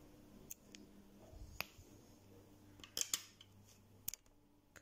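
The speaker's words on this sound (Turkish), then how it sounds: "Çift düğüm attım ve ipimi kesiyorum." Small scissors snip thread while making Turkish needle lace (iğne oyası), with a few quiet, close crisp cuts clustered toward the end and faint handling clicks between them.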